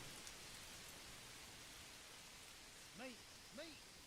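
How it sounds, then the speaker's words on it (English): Steady rain hiss in the medieval village-building game Manor Lords, a soft broadband wash throughout, with two short voiced sounds rising near the end. "Here comes the rain again."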